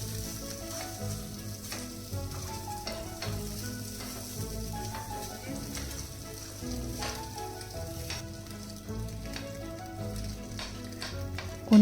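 Two boiled eggs fry with chopped onion in a little oil in a home kitchen, a steady continuous sizzle with occasional soft stirring clicks and no voices.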